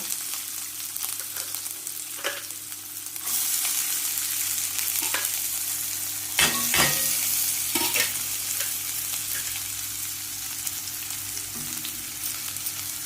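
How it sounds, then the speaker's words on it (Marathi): Onions frying in a pan with mustard seeds and cumin until golden brown, a continuous sizzle that swells louder partway through, broken by occasional spoon scrapes and stirring knocks. "कांदा चांगला गोल्डन ब्राऊन कलर भाजी"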